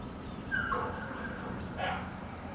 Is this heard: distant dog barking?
yes